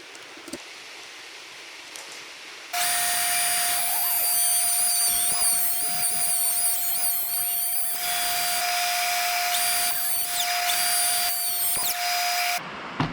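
A router on a router table recuts a dovetail in a wooden board: the motor starts abruptly with a loud, steady, high whine, holds it for roughly ten seconds with slight shifts as it cuts, then stops.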